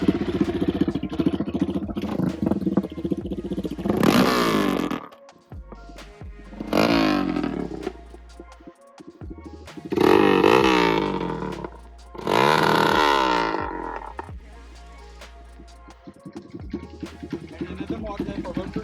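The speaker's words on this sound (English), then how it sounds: "another interesting part of this bike is the exhaust and the way it sounds as well" Hero Impulse motorcycle with a modified aftermarket exhaust revving in bursts, loud and close, several throaty rises and falls with idle between, and people talking briefly over it.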